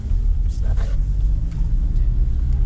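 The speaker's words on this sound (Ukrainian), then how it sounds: "Ну що, Матіс їде." Daewoo Matiz car driving off, a loud steady low engine rumble close by with faint mechanical clicks and brief higher noises.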